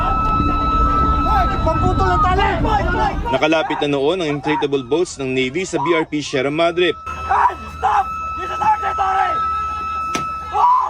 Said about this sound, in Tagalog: habang umaalingongaw ang malakas na sirena